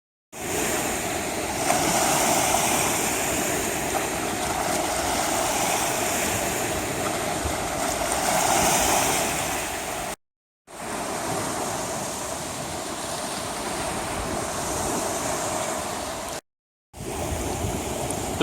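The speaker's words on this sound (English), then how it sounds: "The waves are actually picking up pretty well here." Waves splash and roll steadily onto a Lake Michigan beach at Fort Sheridan Forest Preserve, a continuous loud surf wash mixed with wind, broken by two brief dropouts.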